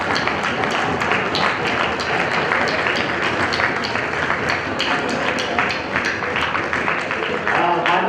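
Sustained crowd applause fills a children's youth parliament event in Siwan, a dense, steady wash of many hands clapping with a loud, even level and little change.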